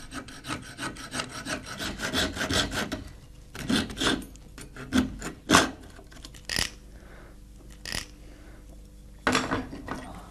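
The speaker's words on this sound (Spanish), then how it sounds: "Tras limar y perfeccionar el acabado, Severo realiza finalmente una pequeña abertura al aljaraz para dotarlo de una mejor acústica." A small opening being filed into a handmade sheet-metal hunting bell used for ferret hunting: uneven rasping and rubbing strokes in irregular bursts, close and fairly clear, with short pauses between strokes and no talk.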